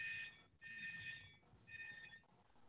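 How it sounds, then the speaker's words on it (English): School alarm heard faintly through a video call connection, a high electronic tone pulsing in three bursts, thin and distant under low background noise. "We can hear the alarm a little bit."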